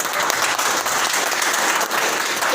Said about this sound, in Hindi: पहले तो इनके लिए तालियां